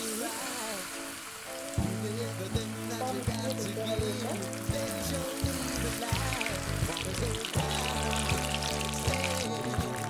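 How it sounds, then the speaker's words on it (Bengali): Paneer fingers fry in hot oil with a continuous crackling sizzle, spread evenly and moderately loud beneath steady background music. "তেলটা গরম হবে, তারপর আমি একটা একটা করে ভেজে উঠাবো"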